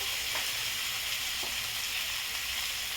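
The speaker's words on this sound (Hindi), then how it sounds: "सभी मसालों को मैं अच्छी तरह भून ली हूँ।" Whole spices for chicken biryani sizzle steadily in a hot pan, a continuous close frying hiss with a couple of faint stirring scrapes, no voices.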